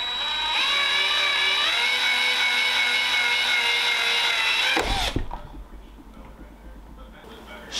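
A power drill spins steadily and loudly at close range, winding wire around an Allen wrench held in its chuck, then winds down abruptly into quieter clatter and handling.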